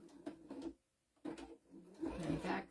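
A sewing machine back-stitching over elastic on a fabric bookmark, three short close bursts of rapid mechanical stitching separated by brief pauses.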